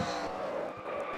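Race car spinning out and skidding on an oval track during a winter series race at Iowa, a brief tire scrub and engine roar, moderately distant.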